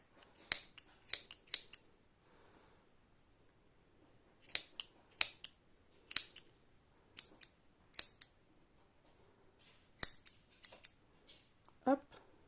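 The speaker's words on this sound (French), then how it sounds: "vous n'avez plus qu'à tailler votre petite barbe." Scissors snip close up while trimming the beard of a crocheted Santa Claus, sharp single cuts and quick short clusters spaced by pauses, with faint room noise between them.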